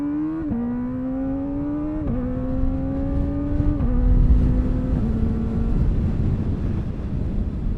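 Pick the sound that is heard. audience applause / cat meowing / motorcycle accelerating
motorcycle accelerating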